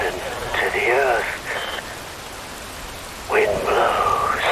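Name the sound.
rain falling in video game Metal Gear Rising: Revengeance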